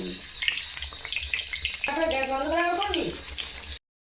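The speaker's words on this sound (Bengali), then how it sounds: "একসাথে ভাজা হচ্ছে চপ" Besan-coated potato chops fry in hot oil in a wok, giving a steady crackling sizzle that runs throughout while a voice talks over it partway through.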